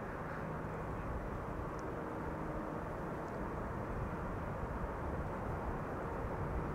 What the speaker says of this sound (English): EasyJet A320neo arriving from Lickety Split